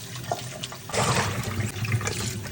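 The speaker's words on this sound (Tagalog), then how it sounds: "Ngayon, hugasan ko lang yung isda." Running water from a tap splashes over a frozen milkfish being rinsed in a sink, a close, steady rush that swells louder partway through.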